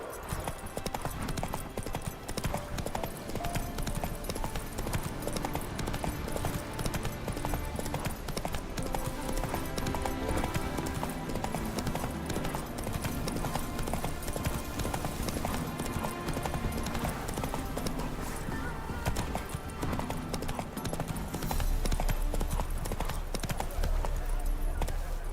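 Horse hooves trot steadily in The Witcher 3, a continuous clip-clop rhythm set against a dense, loud game soundscape of music and ambience that runs the whole time.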